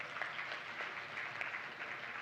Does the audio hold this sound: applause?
yes